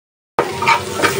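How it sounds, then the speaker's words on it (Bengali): Pieces of pangasius fish frying in hot oil, a steady close sizzle with stirring, starting abruptly after a brief silence and holding level to the end. "তো মশমশা করে এই যে মাছগুলো ভেজে নিলাম, পাঙ্গাস মাছটা"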